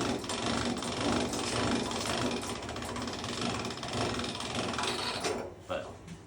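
Hand-cranked pasta machine rolling dough at home, a continuous ratcheting, grinding mechanical whir that runs steadily and close before tapering off at the end.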